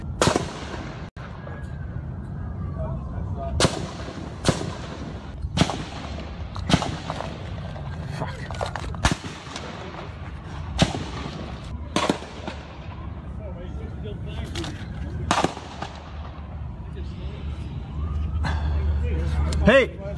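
Sharp gunshots ring out one after another at irregular intervals across a baseball field during a congressional team practice shooting, loud cracks echoing over constant background commotion, with people talking and shouting throughout.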